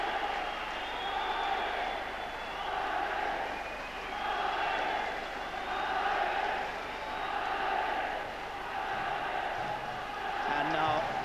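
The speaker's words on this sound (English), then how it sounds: "the most enormous cheer goes up to welcome the challenger from Scotland, Pat Clinton" A boxing crowd in Kelvin Hall roars continuously for the Scottish challenger, a loud surging cheer rising and falling in waves, with whistles cutting through.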